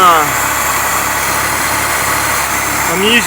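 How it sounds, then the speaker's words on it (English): A 1963 Alfa Romeo 1600 Giulia Spider engine idles steadily with a low, even rumble, close by, with a faint whine near the end. "Seems to be idling okay."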